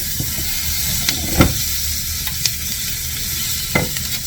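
Ingredients for chicken curry toast and sizzle in a hot pan, a steady close hiss broken by a few sharp clinks and scrapes of stirring.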